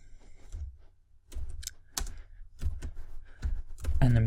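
Rapid keystrokes on a computer keyboard while CSS code is entered, a quick close clatter of clicks in uneven bursts that grows busier toward the end.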